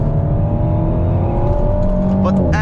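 An Alpine A110 GT accelerating hard, its engine droning loud and steady from close by with rising tones, then a quick gear shift near the end.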